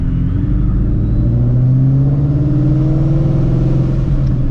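A supercharged 700 hp Shelby GT350 drives at night, its engine a loud, steady close-up rumble with a low drone that rises slightly as it pulls, continuous with no talk.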